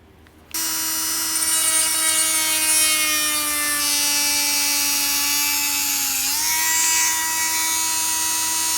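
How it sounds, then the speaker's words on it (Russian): A power drill bores a hole into a wooden circle in a carpentry workshop, its steady high-pitched whine starting abruptly, holding loud and even, then dipping slightly in pitch under load before recovering, with no talk. "И в них нужно будет тоже засверлить отверстие, которое будет выходить вот сюда вовнутрь."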